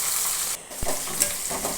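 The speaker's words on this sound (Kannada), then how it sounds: "ಕಡಲೆಬೀಜ ಸ್ವಲ್ಪ ಹಾಕಿಕೊಂಡು ಫ್ರೈ ಮಾಡಿಕೊಳ್ಳೋಣ" Peanuts, chillies and onion fry in hot oil, giving a steady sizzle with a couple of soft knocks from the pan, close and even throughout.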